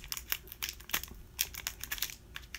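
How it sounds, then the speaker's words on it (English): A tough trading card pack being torn open by hand, a quick run of crisp crinkling foil tears and rustles close up, with no talking. "let's see if we can open this. Okay. These are those tough packs, huh?"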